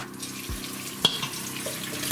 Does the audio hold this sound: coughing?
no